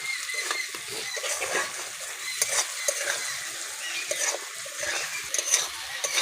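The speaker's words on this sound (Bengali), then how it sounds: "সসটাকে দেওয়ার পরে আরও 1 মিনিট ভেজে নেব।" Spice paste and sauces for an egg curry fry in a pan, a steady close sizzle broken by frequent scraping strokes of a spatula stirring throughout.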